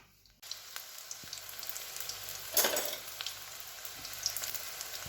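Battered mushroom pieces fry in hot refined oil, a steady close sizzle with crackling bursts, loudest where a piece goes into the pan, no speech.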